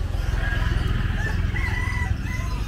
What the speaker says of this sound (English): A chicken. Wow, look at that.